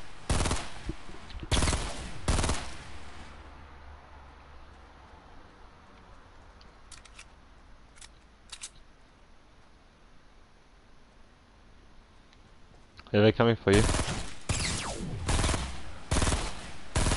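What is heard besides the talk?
gunfire in Fortnite video game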